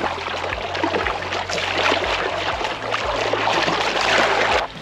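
Paddling a life raft on open water: steady watery splashing and sloshing with a low hum underneath, continuous and fairly close, with no voices.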